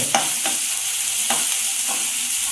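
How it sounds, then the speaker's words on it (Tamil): Two garlic cloves sauté in hot oil for a baby potato masala, a steady bright sizzle broken by a few distinct scrapes of a spoon stirring in the pan. "அந்த 2 பூண்டையும் போட்டுக்கோங்க. போட்டுட்டு நல்லா வதக்கி விட்டுக்கோங்க."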